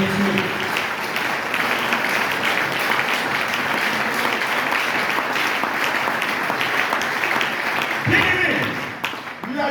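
A church congregation at a Sunday worship service applauds loudly and steadily, a dense sustained clapping from a large crowd that swells slightly near the end before tapering off.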